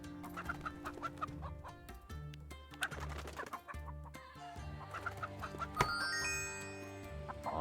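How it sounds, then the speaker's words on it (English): Chickens clucking at a chicken farm in the city-builder game Laysara: Summit Kingdom, repeated clucks and squawks over a soft game music bed, no talking. "Chicken farm is now producing eggs."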